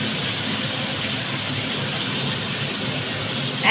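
Fish pieces for a thin foli fish jhol are slipped into hot oil in a kitchen pan, producing a steady, loud broadband sizzle that holds constant throughout, with a brief sharper spatter near the end.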